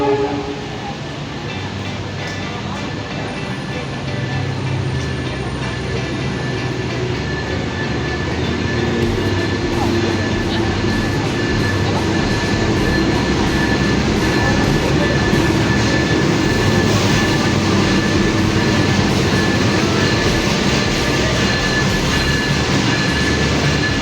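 The Argo Wilis train rolls into Surabaya Gubeng station, a loud continuous rumble of wheels and carriages with a steady tonal hum that builds slightly as it arrives.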